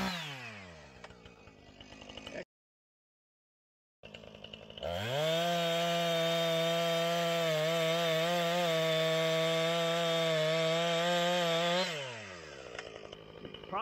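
Close chainsaw bores into a wood cut already started, first sputtering and idling, then revving hard into a steady high-pitched cutting whine for several seconds before dropping back to idle.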